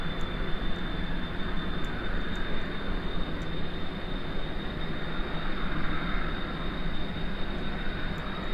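A plane's engine in Kerbal Space Program holds a steady, dense roar with a thin high whine running through it, continuous and even for the whole stretch, with no voices over it.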